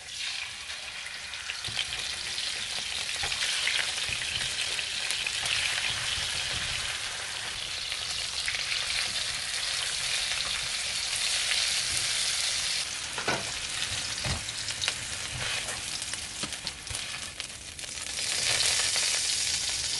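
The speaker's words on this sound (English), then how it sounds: "Fry the pork chops on high heat and turn it only once." Pork chops fry on high heat for Vietnamese broken rice, a loud, dense, unbroken sizzle and spatter heard up close with a few sharper pops, and no one talks.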